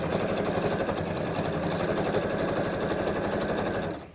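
Sewing machine running continuously while top stitching a quilt binding, a steady rapid mechanical whirr with fast needle rhythm at close range, slowing to a stop at the end.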